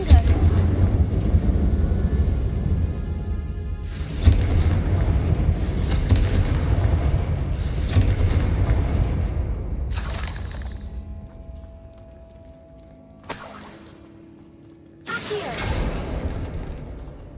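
Confringo fire spell blasts in Hogwarts Legacy: several loud booming explosions in a row, each with a rumbling tail, then a quieter gap before two more sharp bursts.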